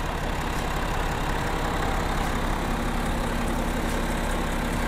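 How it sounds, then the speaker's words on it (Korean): A BMW 640d xDrive Gran Coupe (F12) diesel engine idling with the bonnet open, a steady, loud, even rumble close by that holds constant throughout with no talk. "엔진 소리 일정합니다"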